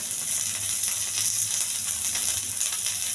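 Urad dal fries in hot oil alongside curry leaves as a tempering for a cabbage and chana dal fry, making a steady, close, crackling sizzle with no talk.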